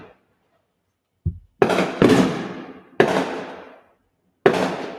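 Fireworks going off at night during Independence Day celebrations in Boston, Massachusetts: a small pop followed by four sharp loud bangs with crackling decays, irregularly spaced, no talking.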